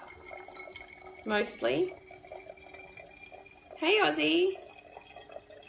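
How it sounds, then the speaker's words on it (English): Tap water runs into a small spray bottle with a soft, steady hiss and trickle in the background, while two short bursts of speech sit on top. "So I'm just filling my little spray bottle with some water."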